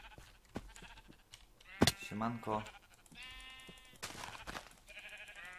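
Sheep bleating in the video game Minecraft, several distinct bleats heard close amid someone talking, with short pauses between calls.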